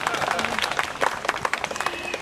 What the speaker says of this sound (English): You can clap, you can still hear.